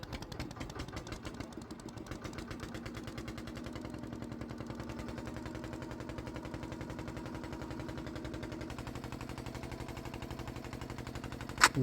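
A ferry boat's engine chugs steadily just after leaving the ghat, a fast, even mechanical knocking that runs unbroken throughout, close and moderately loud.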